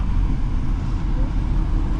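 A 2016 Audi Q5 with the 3.0T six-cylinder engine accelerates, heard from inside as a steady, loud, dense roar of engine and road noise with no pauses.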